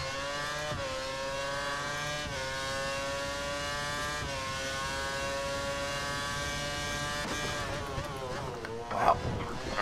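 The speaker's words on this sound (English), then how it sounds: "My engine made this, like, horrid noise" Car engine in the F1 2013 racing game, a steady high-pitched whining drone with shifting harmonic pitch through gear changes, holding loud and continuous before a brief rougher burst near the end.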